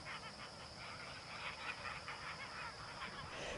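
Farm geese kept in semi-freedom and herded like a flock honk in faint, repeated calls from a distance, blending into a steady outdoor hiss.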